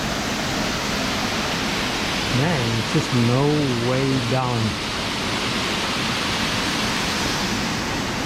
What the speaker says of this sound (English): Here we have a closer look at the pool and the waterfall.